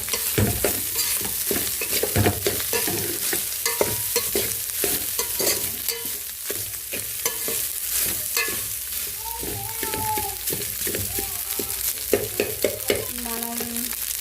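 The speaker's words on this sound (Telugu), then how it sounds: "రైస్ వేసుకొని ఇంకా కర్రీ అనేది రైస్ పట్టే విధంగా మొత్తం ఒకసారి కలిపేసుకున్నాం" A spatula stirs leftover rice and curry in a hot frying pan for egg keema fried rice, giving steady close scraping and sizzling with rhythmic clanks against the pan, continuous and fairly loud, no talk.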